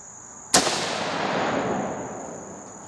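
A single loud, sharp rifle shot from a 30-30 Winchester, fired during an ammunition velocity test, cracking suddenly and then trailing off into a long decaying echo, with no talk.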